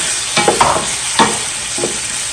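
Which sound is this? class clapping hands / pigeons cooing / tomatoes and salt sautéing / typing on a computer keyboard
tomatoes and salt sautéing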